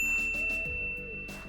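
A bright notification bell dings, a single clear chime that rings briefly and fades over a soft musical backdrop.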